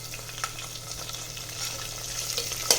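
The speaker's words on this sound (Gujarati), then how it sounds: "હવે આપણે આ બટેટાના પીસ કરેલા છે તેને સાતળવાના છે એકદમ બ્રાઉન થાય ત્યાં સુધી." Potato pieces sauté in oil with cumin and asafoetida, a steady close sizzle with light stirring scrapes and a brief louder clatter near the end.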